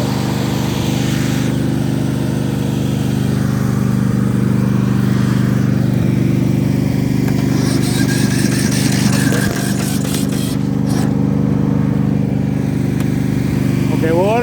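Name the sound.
Yard Machines lawn mower engine being cranked to start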